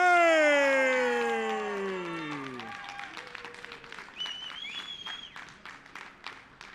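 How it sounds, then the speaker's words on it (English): A crowd at a fight night event breaks into applause with scattered whoops, following a long sliding tone, while an announcer's voice carries on over the clapping. "a massive round of applause for the winner of our co-main event, Anthony O'Shea!"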